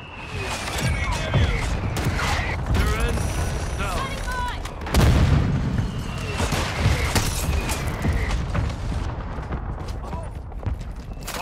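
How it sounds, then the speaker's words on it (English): In Call of Duty Modern Warfare 2, a mortar strike lands with heavy booming explosions amid crackling gunfire and battlefield chaos, while radio-style voices speak over the din. "Mortar strike on the way"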